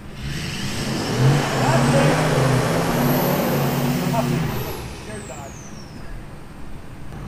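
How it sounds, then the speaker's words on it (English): A Duramax 2500 pickup and a Dodge Ram 1500 pull against each other in a tug-of-war, engines revving in a sustained drone that surges and eases, with a high whine sweeping up and back, and people can be heard over it. "we're talking about a 2500 Duramax versus a 1500 Dodge Ram"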